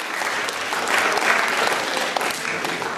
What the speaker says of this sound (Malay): Ya, bagi tepukan